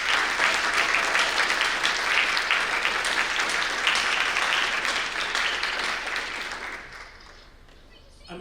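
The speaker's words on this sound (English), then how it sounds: "Can we have one more quick final round of applause for all of our new inductees?" A high school audience claps for new Tri-M music honor society inductees, a dense, sustained round of applause that fades out near the end.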